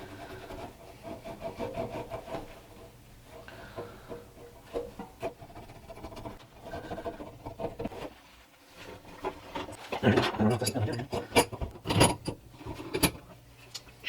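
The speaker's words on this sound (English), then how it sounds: "So here I've got some white vinegar and a towel, and I'm just going to use that to try to scrub it off." A towel soaked in white vinegar scrubs gunk off washing machine water shutoff valves, giving soft irregular rubbing and scraping strokes with a few small clinks, faint and close, building to brisker scrubbing toward the end.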